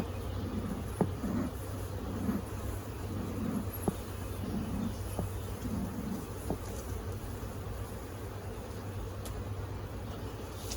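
Honey bees work inside a beehive box, giving a low, steady hum and drone throughout, with a few soft knocks and faint background noise and no one talking.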